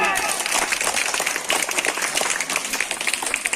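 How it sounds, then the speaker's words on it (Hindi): Vigorous applause from a crowd of students at a Teachers' Day school gathering, continuous dense clapping with scattered voices mixed in, steady and close throughout. "जोरदार ताली"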